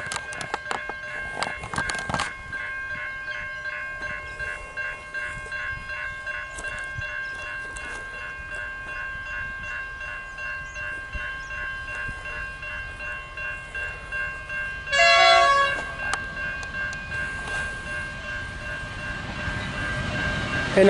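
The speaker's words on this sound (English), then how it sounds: "This is the Adelaide bound Overland passing through Anakin right above us still." The Adelaide-bound Overland passenger train rolls overhead, a sustained rumble of wheels and carriages with steady clicking rhythm and a brief horn-like blast near the end.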